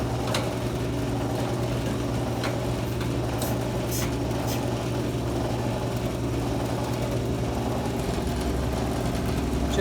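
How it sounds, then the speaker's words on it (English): A T50 booster runs with a steady, droning mechanical hum at moderate level, with only a few faint ticks and puffs over it and no clear chuffing beats. "maybe you can hear the booster chuffing"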